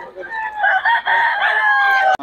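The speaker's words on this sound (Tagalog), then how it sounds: "Murang-mura mga manok ni Boss Joey mga idol" A rooster crows once, a long, loud, wavering call close by, ending in a sharp click.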